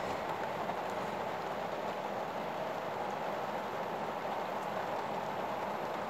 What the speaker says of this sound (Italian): Ascoltate che il rumore della pioggia